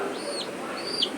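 Young chicken chicks give two thin, high rising-and-falling cheeps about half a second apart, faint over a soft background hiss.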